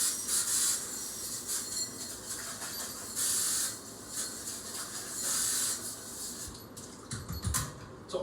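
Sanitizer spray from a homebrew bottle onto brewing equipment, with several short bursts of hissing spray separated by pauses and a rinsing, rubbing sound near the end, close by and fairly quiet.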